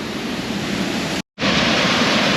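Waterfall on a trail of small cascades in Spain, a steady broadband rush of falling water, loud and close, with a brief cut to silence midway before the roar resumes.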